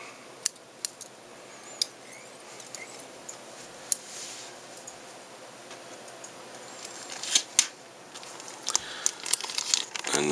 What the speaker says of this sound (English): Trim some off.